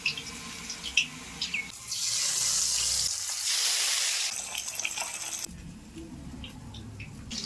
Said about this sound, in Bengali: মাছগুলিকে ভেজে নিয়েছি, তবে খুব বেশি কড়া করে ভাজিনি। এবারে মাছগুলিকে উঠিয়ে নেব।